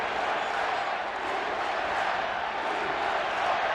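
A ballpark crowd at a USA vs Mexico World Baseball Classic game roars continuously, a dense, steady wall of cheering and shouting with no breaks, loud and distant-sounding as a broad mass of voices.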